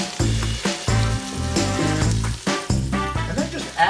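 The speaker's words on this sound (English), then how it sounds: "just add the clams right to the garlic and onions that you have on the stove" Clams hit a pan of garlic and onions on the stove, sizzling and crackling steadily under musical accompaniment.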